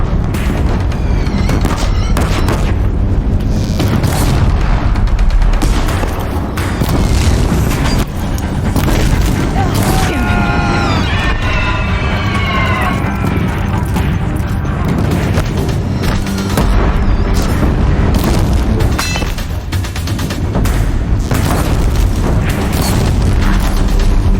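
Deathbringer war machines in Horizon Zero Dawn pound a bridge with a steady, loud barrage of booming explosions and mechanical fire, with brief voices and metallic clatter woven through the din.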